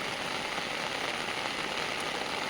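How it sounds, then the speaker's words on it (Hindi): Steady heavy rain falls on flooded roads in Bijnor district, a continuous close hiss of drops with no pauses. "कब से हो रही है बारिश?"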